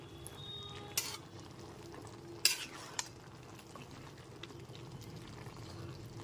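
Bottle gourd curry with bori, watery from the released juices, stirred top to bottom in a pan: a soft, low continuous sizzle with a few sharp scrapes of the spoon against the metal, fairly quiet and without speech.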